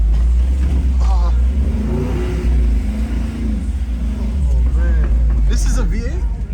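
A V8 car engine revs loudly at an international auto show in New York, with rising and falling bursts over steady crowd chatter and people talking nearby.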